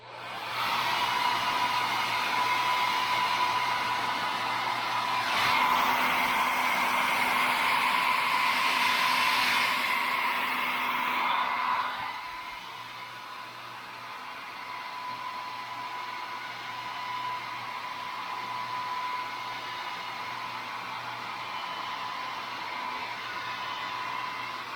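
Hair dryer-style blower warming and drying a painted wood caricature cowboy carving, a steady loud whooshing hum that swells stronger for several seconds mid-clip, then drops to a lower constant drone, with no talking.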